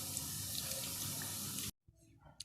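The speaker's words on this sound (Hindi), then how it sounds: "अब इसमें पानी डाल के तो इसको मिक्स करके पकौड़े बना लेते हैं।" Water pours from a tap into pakora batter in a home kitchen, a steady loud splashing stream that stops abruptly, followed by a few faint drips and clinks.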